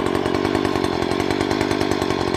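A chainsaw buzzes loud and close at a steady high rev while trimming tree branches, a constant rasping drone with a fast regular pulse and no voices over it.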